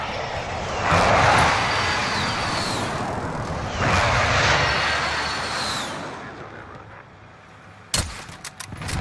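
Inbound airstrike in the video game Warzone on Rebirth Island: two heavy roaring jet-like passes swell and fade one after another, followed by a sharp cluster of loud impacts and blasts at the end.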